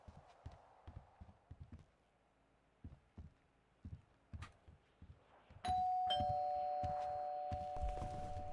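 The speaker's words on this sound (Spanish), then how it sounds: "Ya tocó el timbre." A doorbell rings partway through, a sudden sustained electronic chime that cuts in after a series of thumping footsteps and knocks and then lingers steadily to the end, fairly loud, with no talking.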